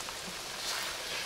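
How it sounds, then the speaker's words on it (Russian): Heavy rain falling outdoors during an off-road competition, a steady broadband hiss of drops on surfaces, continuous and fairly soft throughout with no talk. "Там на улице ливень"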